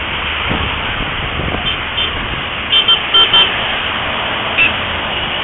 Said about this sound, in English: I'm not sure what the horns are for.